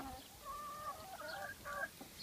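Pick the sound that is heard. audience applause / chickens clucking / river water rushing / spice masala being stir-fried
chickens clucking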